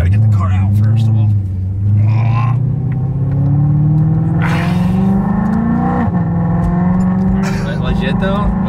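A BMW E92 M3 idles with ARH headers and exhaust, a deep, rumbling exhaust tone that slowly rises in pitch, steady and close throughout.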